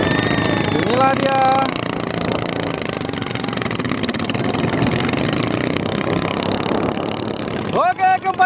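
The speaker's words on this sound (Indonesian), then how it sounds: "keempat-empat sampan sudah menyalakan mesinnya" Racing boat engines run at a boat race at Labuhan Jontal, a loud, continuous, rattling drone that holds steady for several seconds, with a voice briefly heard at the start and end.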